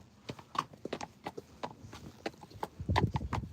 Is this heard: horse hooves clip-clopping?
yes